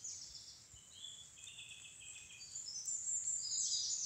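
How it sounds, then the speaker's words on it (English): Wren singing in spring woodland, rapid high trilling bursts from a small songbird above, moderately distant, over a quiet leafy background. "It's a frantic song of the wren."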